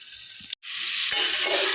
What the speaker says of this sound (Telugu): బాగా అటు ఇటు ఆయిల్ అంతా కలుపుకొని